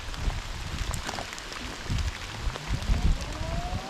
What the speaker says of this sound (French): Là, ça pleut comme il faut.